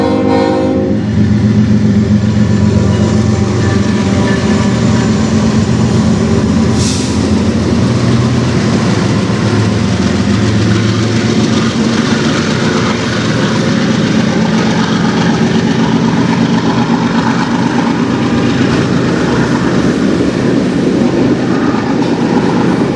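A long CN freight train rolls past close by on the Strathroy Subdivision, a loud continuous rumble and clatter of cars on the rails, with a brief sharp horn-like tone early on.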